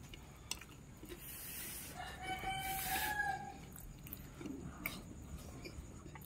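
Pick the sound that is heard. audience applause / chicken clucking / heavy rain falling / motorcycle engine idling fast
chicken clucking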